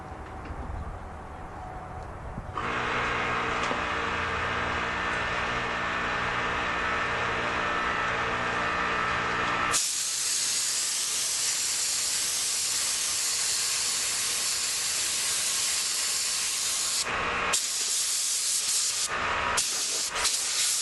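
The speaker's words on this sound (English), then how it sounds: "get force some air into that crack to help it dry off" An air compressor forcing a steady blast of air into a crack on a 1969 Landmark to dry it after a water leak test: a loud, continuous close hiss that swells partway through and then cuts in and out near the end.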